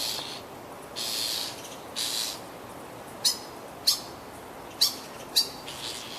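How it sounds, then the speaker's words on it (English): A distressed baby bird near a window gives repeated harsh screeching calls, a few longer shrieks followed by four short sharp cries, fairly close and clear over quiet background noise. "Bird is screaming."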